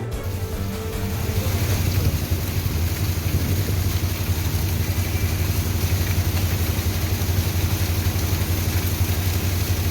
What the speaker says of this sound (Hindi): तेज हवाओं के साथ झमाझम बारिश शुरू हो गई